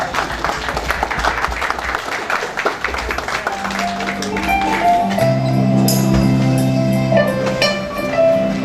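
Audience applause at a poetry book launch event in Dubai, a steady spread of hand clapping through the first half that thins out as a sustained tone and faint voices take over.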